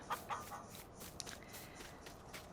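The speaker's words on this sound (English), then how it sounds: "The chickens are all there, they've been fed" Chickens cluck in the farming video game Farming Simulator 19, a few brief, faint clucks over a soft ambient background, with no talking.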